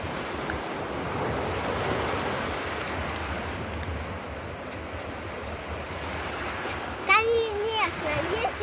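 Sea waves wash onto the shore with a steady broad roar, and wind buffets the microphone throughout. A voice rises briefly near the end.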